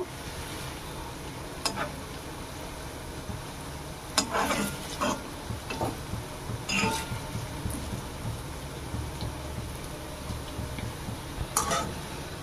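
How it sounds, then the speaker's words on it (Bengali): Palm fritters deep fry in oil with a soft, continuous bubbling sizzle, quiet overall, broken by a few sharp clinks and stirring sounds from a utensil against the pan. "এগুলোকে এবার মুচমুচি করে ভেজে নেব।"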